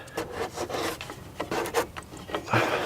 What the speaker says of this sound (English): Wedge this flat tip screwdriver in between